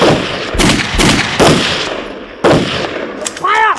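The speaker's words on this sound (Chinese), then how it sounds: "谢子军，开枪！" Rapid gunfire in a Chinese anti-Japanese war drama, with a string of loud, close shots and bursts over about three seconds, followed by a brief whistling or ricochet-like tone at the end.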